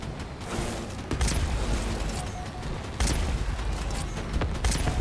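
Weapon fire in the Crossout vehicle combat game, assembler guns firing in repeated bursts over a dense mechanical din, with heavy booms at intervals and loud, sustained clatter throughout.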